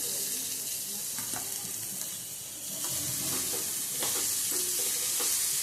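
Onions fry in a pan for an ulta vada pav filling with red chilli powder already in the oil. A loud, dense sizzle grows stronger partway through, with scattered stirring clicks and no talk.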